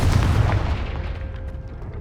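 A Confringo fire spell blast from the Hogwarts Legacy video game: a loud, deep booming burst that hits at once and fades out over a couple of seconds in a low rumbling tail.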